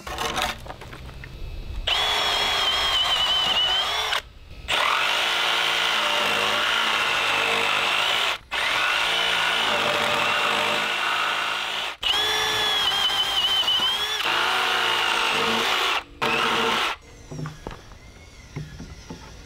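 Power saw ripping framing lumber down to size for rat board and window and door framing at a garage build site, running loud and close in long continuous cuts separated by brief pauses.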